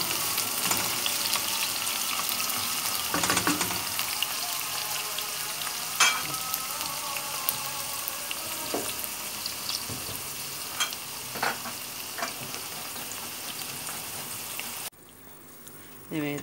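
Chopped onions and mildly hot green peppers sizzle steadily in a pan while a utensil stirs and scrapes them, with intermittent clanks over the constant frying hiss before it drops off near the end.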